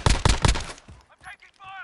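Call of Duty Modern Warfare gunfire, a rapid burst of three or four close, loud shots at the start, followed by fainter game effects and a rising electronic tone.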